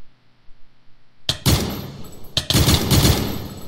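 SCAR-H rifle from a Minecraft gun mod fires two loud, sharp bursts about a second apart after a quiet start, each blast ringing out with a long metallic tail.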